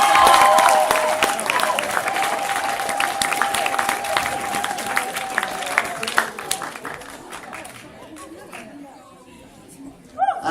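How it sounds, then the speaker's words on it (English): Year 11 students at a 2013 leavers assembly break into loud, sustained applause and cheering, dense clapping from the crowd that gradually thins out over about eight seconds before a few scattered claps at the end. "give yourself a round of applause"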